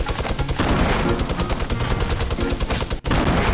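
Minigun fire in the Fortnite battle royale game: a dense, continuous rattling stream of rapid shots, loud and steady, with one brief dropout near the end before the burst resumes.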